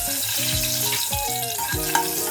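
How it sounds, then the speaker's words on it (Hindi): Whole green cardamom, cinnamon, bay leaf and cloves for egg curry sizzle in hot oil, a loud steady frying hiss running throughout, overlaid by tonal sweeping tones. "ये जो अक्खा मसाला है, छोटा इलायची, दालचीनी, तेजपत्ता और लवंग, ये हम डाल देते हैं।"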